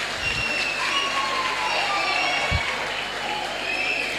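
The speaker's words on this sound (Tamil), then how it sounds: "சந்தோஷமாக கைத்தட்டலாம்." Audience clapping at a New Year celebration gathering, a moderate patter of hands spread across the room, fairly steady and somewhat distant, with a couple of low thumps and faint voices in the background.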